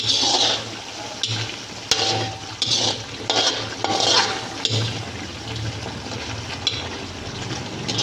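Dried anchovy fish curry bubbling and simmering in a pan with soft stirring scrapes and occasional light clinks, moderately close, no voices.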